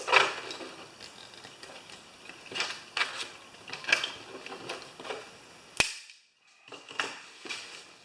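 An old manual rivet gun working on a lawn mower bag, a series of sharp metallic snaps and clicks at irregular intervals, close and crisp, with one louder pop followed by a brief silence.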